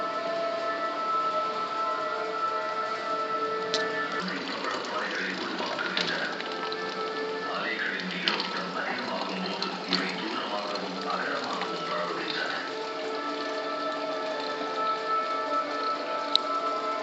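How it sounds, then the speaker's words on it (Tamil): Running water streams steadily into a bottle from a tap, a continuous, fairly loud hiss and splash that never pauses. "தண்ணி பிடிச்சாச்சு"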